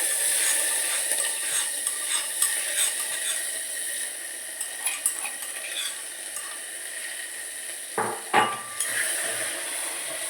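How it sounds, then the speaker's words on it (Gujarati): Cowpea (chori) vegetable hits a pan tempered with asafoetida and ginger-chilli paste, giving a faint, steady sizzle with scattered stirring clinks and a brief clatter of utensils near the end. No one talks. "જો આ શાક વઘારી દીધું"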